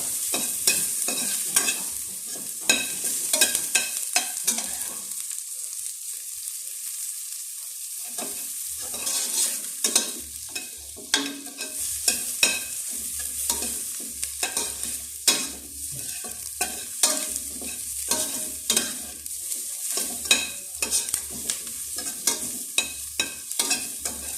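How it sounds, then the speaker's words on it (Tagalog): Chicken intestines and offal browning in a pan for adobo, a continuous close sizzle broken by frequent scraping, stirring knocks and a brief lull, with no talking. "Papabrownin natin ito."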